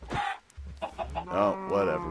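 Video game chickens cluck and squawk in a short series of close, distinct calls, with a longer drawn-out squawk near the end and no talking over them.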